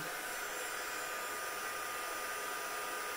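A heat tool blowing hot air in a constant, even whoosh, steady and close, with no voices.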